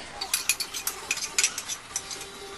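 Chicken with spices and plain yogurt being mixed in a bowl, a quiet close sequence of wet squelching stirs and light utensil scrapes in quick rhythm.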